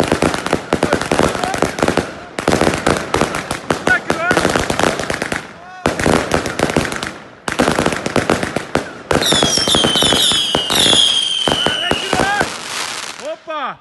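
Fireworks from a Wolff fan cake and a Happy Salute going off, long rapid bursts of crackling bangs in bursts, loud and close, with whistling, screeching effects toward the end and voices present.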